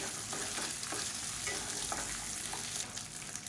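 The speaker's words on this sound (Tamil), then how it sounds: "இது வந்து நல்லா வதக்கணும்." Onions and chana dal sauté in a hot pan for a chutney with a steady close sizzle, while a spoon stirs and scrapes through them in soft repeated strokes. No one speaks.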